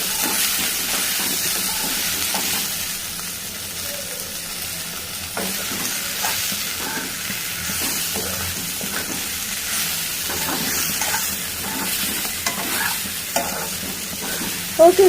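Flat beans stir-frying in a pan with garlic and chili powder, a steady close sizzle and hiss with scraping stirs throughout and a couple of sharper clatters at the very end, no talking.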